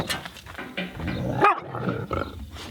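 A puppy gives a run of short, rough growling and yelping vocalizations, close and fairly loud, with uneven bursts and a sharper cry near the middle.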